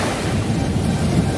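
Ocean waves and surf roll in on Siargao island, a loud, continuous wash of breaking water mixed with wind buffeting the microphone, steady throughout with no talk.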